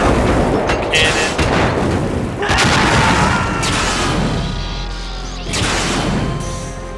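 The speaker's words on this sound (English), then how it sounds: "She just did blast that bridge." Heavy booming blasts from a laser super cannon destroying a bridge in Metal Gear Solid 2: Substance on Xbox, loud rumbling impacts and crashing debris in bursts, with a brief break before another strong hit.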